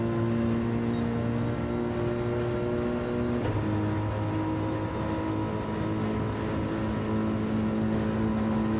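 A car accelerates flat out down a straight in Gran Turismo 7 while slipstreaming another car, its loud, steady engine drone holding high and even with a brief shift in pitch partway through.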